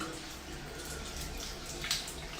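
Water runs steadily from a tap into a bathtub or basin indoors, a continuous soft hiss and splash at moderate level with no talk over it.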